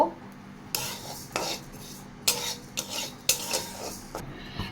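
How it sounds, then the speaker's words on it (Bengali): Moong dal being dry-fried and stirred in a wok, giving repeated scraping and clinking strokes of a utensil against the metal pan at an irregular rhythm, close and moderately loud with no talking. "কড়াইতে আমি প্রথমে মুগ ডালটা দিয়ে নিলাম, মুগ ডালটাকে ভালো করে একটু ভেজে নেব।"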